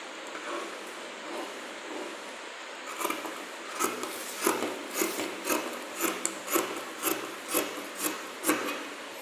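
Scissors cutting fabric for a child's frock, a rhythmic series of close rasping snips repeating steadily in the second half over light background hiss, with no talking.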